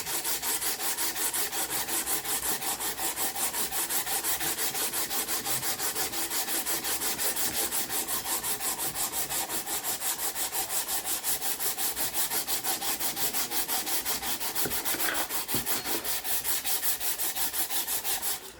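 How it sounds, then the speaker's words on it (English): Sandpaper rasps along the grain of an old wooden jewelry box in fast, even back-and-forth strokes, close up and continuous throughout, with no talking. "This, you can tell the grain goes this way, so we're going to sand in that direction."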